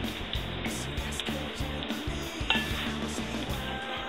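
Plantain tortilla burritos frying in a shallow film of oil in a pan, a continuous close sizzle with repeated scraping and stirring knocks of a utensil against the pan.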